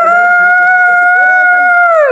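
Dogs howl at night in the cold, a long, loud, sustained wavering howl that holds steady for about two seconds before sliding down in pitch at the end, with faint lower noises beneath.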